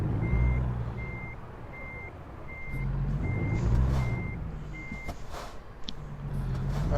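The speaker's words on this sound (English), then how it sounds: "That backup buzzer annoys me" Truck backup beeper in American Truck Simulator, a steady run of evenly spaced electronic beeps over a low engine rumble, with a faint hiss of air brakes near the end.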